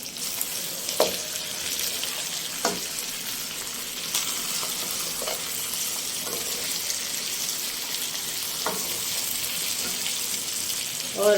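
Mutton with green chillies frying for pulao makes a continuous sizzle, with scattered clinks and stirring knocks over the steady hiss.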